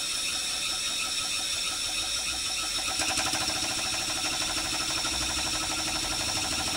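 A 1 inch scale gas-fired steam traction engine designed for coal runs with a steady rhythmic chuffing and mechanical clatter, close by and continuous with no voices.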